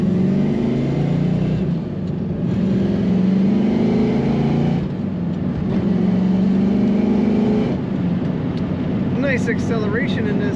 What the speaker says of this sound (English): Nice acceleration in this Corvette.